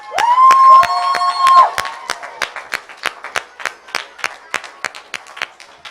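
Parents and leaders at a church gathering clap for the kids, starting with a dense burst of applause and some shouting, then thinning into a few scattered, rhythmic claps.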